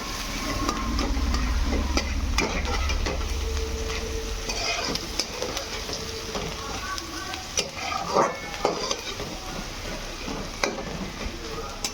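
Onion frying in oil with salt, stirred in a pan, a steady sizzle with scraping strokes that thins out after the first few seconds, with occasional clinks.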